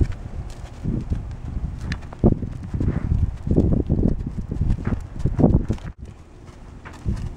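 A horse's hooves walking outdoors over ground near stinging nettles, an uneven run of close, heavy clip-clop steps with rustling between them.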